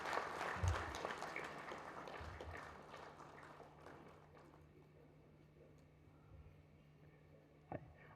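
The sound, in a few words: audience applause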